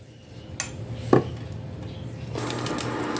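Banana blossom fritter batter being mixed in a bowl, with a couple of sharp utensil clinks against the bowl followed by a soft, continuous wet stirring sound nearby.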